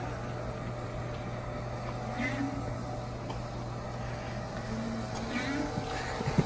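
A FASS fuel pump runs with its filters loosened, giving a steady, close whirring drone with a low constant hum that holds evenly throughout, with no breaks.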